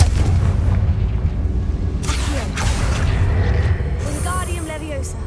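A Confringo fire-blast spell in Hogwarts Legacy, its bursts landing with a rumbling, crackling blast amid game ambience and mechanical creaks, a voice calling out over it.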